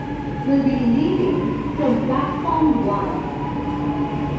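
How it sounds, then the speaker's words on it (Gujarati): A Chennai Metro train rumbles in close by, its steady drone rising with faint whining tones, while a person talks over it. "આ બાજુ આપણી ટ્રેન આવી ગઈ છે મેટ્રો"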